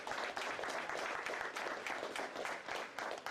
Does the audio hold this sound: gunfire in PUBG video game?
no